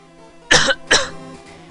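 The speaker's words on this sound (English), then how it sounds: "I need to stop coughing so much." Two sharp, close coughs in quick succession, with quiet in between and after.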